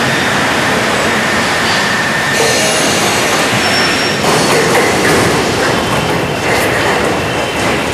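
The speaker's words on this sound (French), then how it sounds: "les conditions du métro parisien" A Paris metro train rumbles along the track with steady, loud mechanical noise, wheels squealing faintly at times and no voices.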